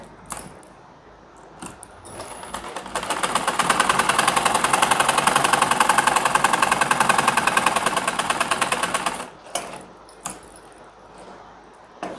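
A sewing machine stitches a rubber waistband onto cotton-style trouser pajama fabric, running in one steady, loud mechanical burst of rapid needle chatter for about six seconds, with quieter handling clicks before and after.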